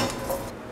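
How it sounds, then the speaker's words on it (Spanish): Chocolate stirred in a pot for mole: a brief scrape and clink of a utensil against the pot, close and fairly loud, fading after half a second. "Mezclamos el chocolate"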